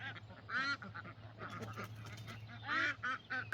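Cayuga ducks quack in loud bursts of nasal calls, several overlapping near the listener, with a steady low hum beneath and brief quieter gaps between calls.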